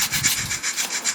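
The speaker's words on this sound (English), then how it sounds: "Just try and keep the sandpaper very flat on the rim." Sandpaper rubbed by hand across an alloy wheel rim, giving a rough, scratchy back-and-forth rasp in short quick strokes, close up with no talk.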